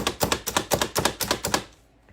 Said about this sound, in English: just chop it up